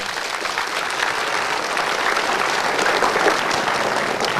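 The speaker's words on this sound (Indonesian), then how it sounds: "Tepuk tangan buat teman" A television health talk show's studio audience claps for a participant called up from the seats. The applause is dense and even, filling the room steadily for over four seconds without a break.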